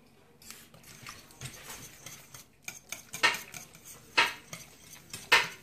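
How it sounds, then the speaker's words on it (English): A whisk beaten in a bowl, quiet irregular clinks and taps building to several sharper metallic strikes near the end, close and fairly faint. "Let's use a whisk."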